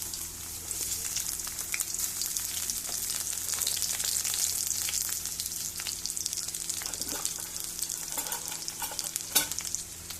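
Chopped onions frying in mustard oil in a pan, a steady close sizzle with scattered crackles and a few stirring scrapes, no voices present.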